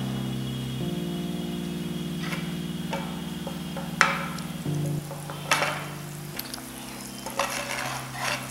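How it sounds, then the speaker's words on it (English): Butter melting in olive oil in a pan sizzles steadily for several seconds, with faint stirring and a few light utensil taps against the pan during a practical food-production cooking demonstration. "once the butter melts"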